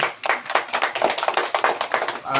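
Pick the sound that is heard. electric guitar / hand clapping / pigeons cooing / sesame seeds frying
hand clapping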